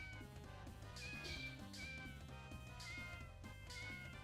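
A cat in the video game Deltarune Chapter 4 meows again and again while being petted, its short cries coming at a steady pace over tuneful background music.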